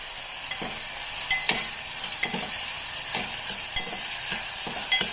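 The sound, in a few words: stirring tomatoes with turmeric and salt frying in a pan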